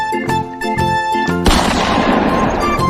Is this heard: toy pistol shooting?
yes